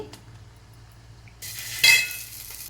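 Tempering of fried spices poured into a pot of sambar, a quiet kitchen stillness that breaks into a bright, sudden sizzle with a metallic clink as the hot oil hits the liquid.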